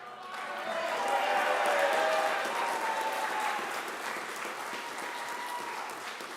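Audience applause at an apprenticeship recognition ceremony, a steady wash of clapping from a room full of people that swells and then slowly tapers over several seconds.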